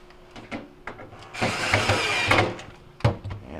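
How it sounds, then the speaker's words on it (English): Two Phillips screws driven back through the upper back panel of a Hotpoint refrigerator with a power driver, a close whirring burst of about a second and a half amid clicks and handling knocks. "now we can reinstall the 2 Phillips screws through the upper back panel"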